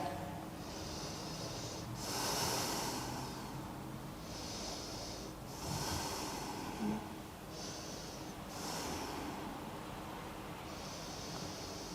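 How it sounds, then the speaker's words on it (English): Slow, deep breathing held during a yoga pose, long soft breath cycles rising and falling faintly in a quiet room with no talking. "We'll take 10 breaths here"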